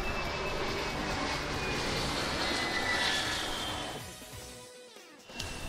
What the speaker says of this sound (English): Let's wait for this plane to pass by.